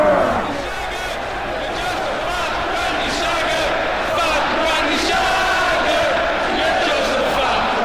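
Crowd jeering and bellowing in the WWE 2K wrestling video game, a dense roaring arena wash with rising shouts and whoops, loud and continuous beneath the action.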